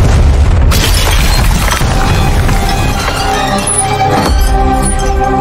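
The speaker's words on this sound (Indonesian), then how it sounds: "memperlihatkan kekuatan dari ledakan yang ditimbulkan oleh bahan peledak yang dibuat dari RDX" A huge explosion from an RDX-based explosive in an Indian action film booms loudly, a dense, sustained roar of blast and crashing debris that fills the whole stretch with no speech.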